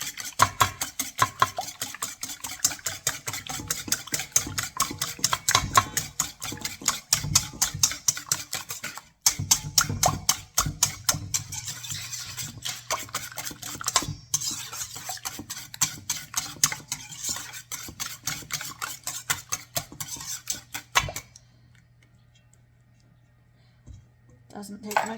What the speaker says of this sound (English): And then we're gonna just mix that all together.